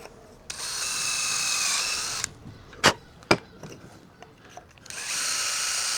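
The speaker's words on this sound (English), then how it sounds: "Perfect example of why I've got to drill through here." A power drill bores through wood while building a bee hotel, whining steadily for a couple of seconds, then two sharp knocks and a few small taps. A second drilling burst starts near the end, close and loud.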